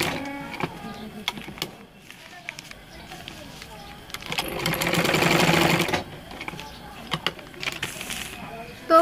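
A sewing machine stitching homemade hand gloves runs in short whirring bursts, then a longer, louder steady run, with a person talking over it.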